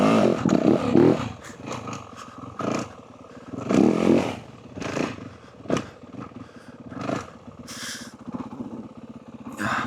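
A Yamaha WR450F 450 dirtbike engine revs hard in repeated surging bursts during wheelie attempts on frozen grass and dirt, loud and close, rising and falling over several seconds.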